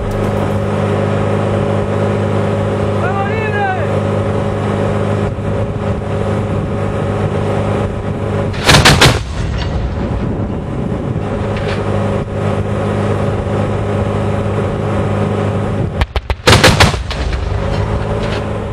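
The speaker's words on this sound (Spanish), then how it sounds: "Lo que tenemos atrás es un cañón antiaéreo" Two bursts of heavy anti-aircraft cannon fire erupt over a constant loud engine rumble: a short volley first, then a longer rapid string of shots.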